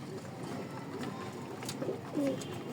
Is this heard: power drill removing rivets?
no